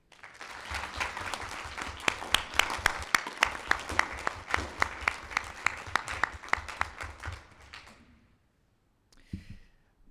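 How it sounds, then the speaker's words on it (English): Applause from the audience at a school board of education meeting, a dense burst of many hands clapping with sharp individual claps standing out, lasting about eight seconds before fading to quiet, followed by a brief faint rustle. "I think it would be good to give you a round of applause"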